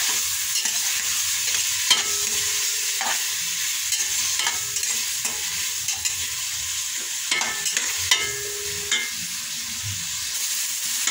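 Tomatoes being sautéed and stirred in a pan for chicken-feet sinigang: a steady low sizzle with repeated scraping stir strokes, close up, with no talking.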